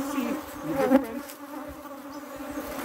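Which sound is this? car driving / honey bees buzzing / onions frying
honey bees buzzing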